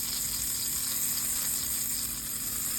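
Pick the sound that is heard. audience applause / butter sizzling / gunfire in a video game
butter sizzling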